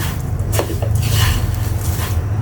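Sugar being stirred into lachha semai in a pot, with steady scraping and clinking of a utensil against metal, continuous and close.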